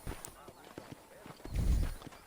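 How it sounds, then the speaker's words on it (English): Horse hooves clip-clop in Red Dead Redemption, a run of light, evenly spaced footfalls that ends in a louder, heavier thump near the close, with no talk over them. "Whoa, horse."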